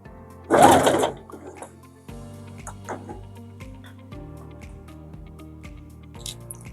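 A sewing machine stitches pleats with contrasting thread at a quarter-inch seam allowance, a brief loud whir of stitching followed by slower, quieter runs of mechanical ticking and humming, close up.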